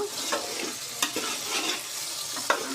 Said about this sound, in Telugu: ఒక రెండు నిమిషాల పాటు ఇలాగ ఫ్రై చేసుకోవాలి